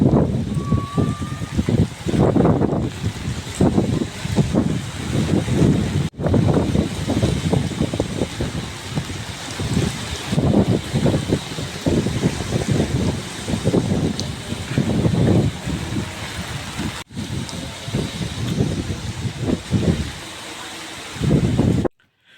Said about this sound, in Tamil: அந்த அளவுக்கு காற்று பலமாக அடிக்குது, குப்பை தொட்டியெல்லாம் பறக்குது, செதறுது.